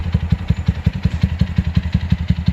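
A KPMoto-Club exhaust on a Lifan KPR 200 motorcycle idles with a loping, uneven pulse of low thumps, close and steady, with no talking.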